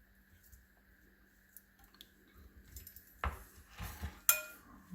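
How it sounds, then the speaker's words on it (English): Cucumber and avocado salad tossed in a bowl: after a quiet start, soft wet squishes and a few light clinks of a utensil against the bowl build up near the end, close and alone. "Okay, we'll mix that up just a little bit."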